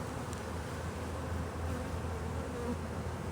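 Honey bees swarm and buzz around an open farm hive where they are building queen cells, a dense, continuous drone that is close and steady throughout, with no talk.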